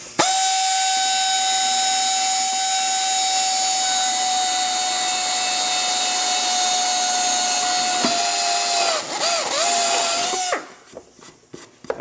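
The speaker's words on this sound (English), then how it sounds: "I'll drill the last one here." A drill bores holes through a Witchdoctors Game Ender Fender on a Victory Cross Country motorcycle, giving a loud, steady whining tone that holds for about ten seconds, wavers as the bit breaks through, then stops, leaving quieter handling noises.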